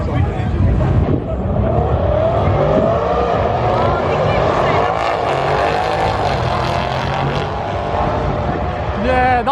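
BMW 380 xDrive accelerating hard in a race against a Mercedes CLA 45 at a large UK car meet, a loud sustained engine roar heard from inside with excited voices talking over it.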